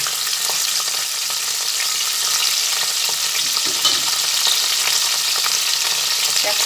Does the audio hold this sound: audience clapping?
no